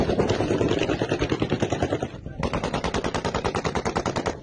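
Rapid automatic gunfire rattles in sustained bursts during a clash between US troops and Syrian regime forces, with a brief pause before the shooting resumes.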